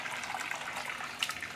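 Water pours from an opened valve on a catfish hatchery tank in a steady, faint splashing trickle, with no one talking.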